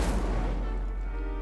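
A fire spell cast in the Hogwarts Legacy video game, a loud booming burst at the start that quickly decays into a rumbling tail.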